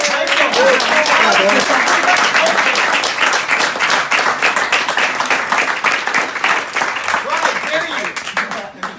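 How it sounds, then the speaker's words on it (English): An audience at a high school freshman baseball team awards event applauds a player, with dense steady clapping throughout that thins slightly toward the end, and voices murmuring beneath. "Give him a round of applause."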